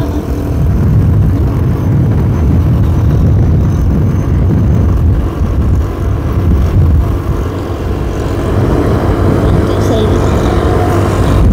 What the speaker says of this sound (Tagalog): Bilis yung mga sasakyan dito.